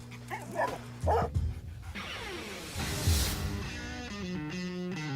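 A dog barks and yips a few times amid a busy car restoration shop scene, the barks fairly close and mixed with clatter and background sounds.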